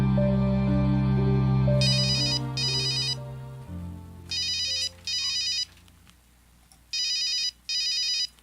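A cellphone ringtone plays in loud repeated electronic bursts, about six short rings in pairs, over fading background music with no talking.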